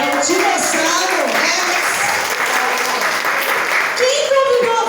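A prayer group audience applauds at a 28th anniversary gathering, steady dense clapping that fills the room, with voices speaking and calling out over it.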